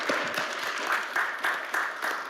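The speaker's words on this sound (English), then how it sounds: "Let's give them all a round of applause." Applause from a crowd at a city board of directors meeting, a steady dense patter of many hands clapping that carries on throughout, moderately loud and with no talking over it.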